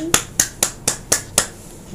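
Six sharp hand claps land in an even, quick rhythm, close and crisp, with no talking around them.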